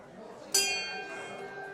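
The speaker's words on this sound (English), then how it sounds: "Time to ring the bell, Ken?" A single handbell struck once at a mandolin orchestra's winter solstice anniversary concert, a bright clang that rings on and decays slowly, fairly faint.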